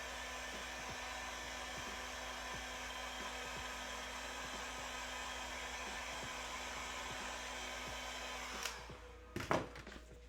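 Hair dryer blowing on custom paint on a keyboard, a steady close whoosh with a faint rhythmic ticking underneath, cutting off near the end followed by a few soft knocks and handling thuds.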